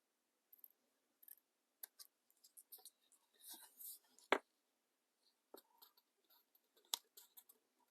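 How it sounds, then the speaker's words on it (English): Small scissors snip paper in quick, scattered clicks and short cuts, close and quiet, with soft rustling between them. "come in with my smaller scissors"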